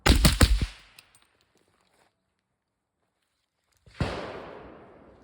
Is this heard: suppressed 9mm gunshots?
yes